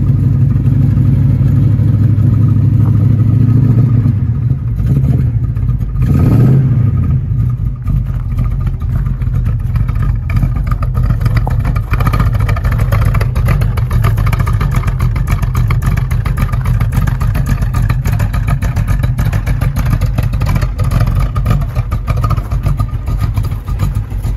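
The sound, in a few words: 1969 Ford Mustang Mach 1 engine started and revving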